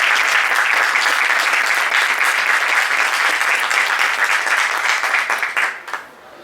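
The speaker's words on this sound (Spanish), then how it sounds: "Un aplauso, por favor." A hall audience claps at the opening of a talk on women's empowerment, a loud, thick burst of applause held steady for several seconds before quickly dying away.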